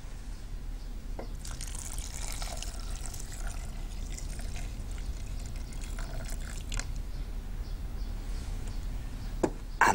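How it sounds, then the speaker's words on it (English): Water poured into a pan over rice and tomatoes, a soft steady trickling and splashing at close range, with a brief clatter near the end. "and just enough water to cover them."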